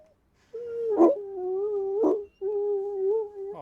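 Dog making long drawn-out whining howls close by, three sustained wavering cries with brief harsh bursts between them and short pauses.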